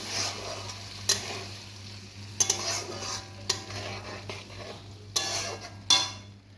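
Spice paste of ground cumin, chili, turmeric, salt and a little sugar frying with tomato for a fish curry, a quiet soft sizzle broken by several sharp spatula scrapes against the pan.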